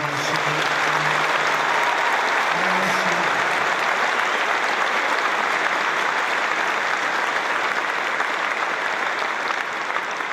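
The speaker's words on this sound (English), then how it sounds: "Let's give them a really special hand." Loud, dense applause from a large crowd of troops at Al Udeid Air Base in Qatar, honoring Qatar Armed Forces partners, sustained and even for about ten seconds with no speech over it.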